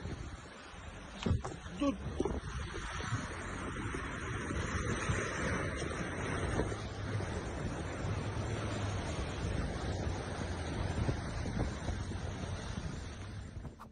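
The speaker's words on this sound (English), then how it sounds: "The small waves don't seem too menacing." Ocean waves breaking on a beach, a continuous loud rushing surf with swelling crashes and wind noise on the microphone, plus a brief voice shouting near the start.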